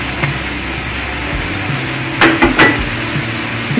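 Chopped tomatoes hit a pan of hot spice mix for katla fish curry, giving a steady sizzle under soft stirring and scraping, with a couple of sharper clatters near the end.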